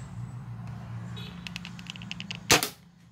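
A single sharp, snappy shot from a spring airsoft KAC PDW rifle cracks near the end, aimed at an empty drink bottle, preceded by faint clicks over a low background hum.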